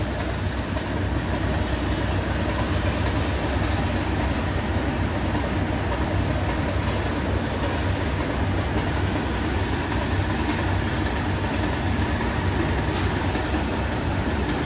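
Class 153 diesel railcars in East Midlands Trains livery rumble at Nottingham, a loud, steady engine drone with a continuous low throb that holds close and constant.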